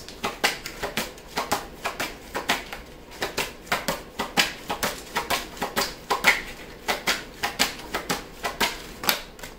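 Tarot cards being shuffled by hand, a quick run of crisp close snapping riffles and flicks repeating in uneven bursts, with no talking.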